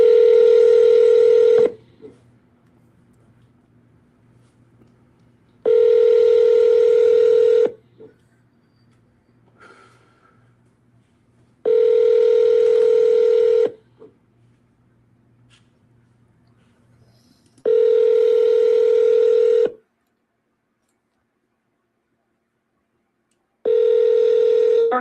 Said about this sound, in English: Just gonna dial this one last time.